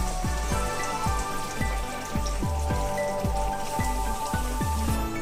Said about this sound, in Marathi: ह्यामध्ये आपल्याला उकळलेलं पाणी टाकायचंय.